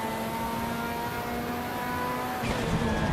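A race car engine in the Assetto Corsa EVO sim holds a steady high whine at about 7,000 rpm in second gear while the wheels spin, loud and continuous, then rises with a sharper burst near the end.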